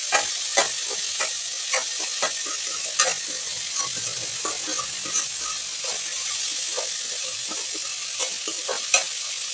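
Curry leaves frying in hot oil for an egg pepper fry, a steady bright sizzle broken by scattered crackles and pops with some stirring, close and moderately loud.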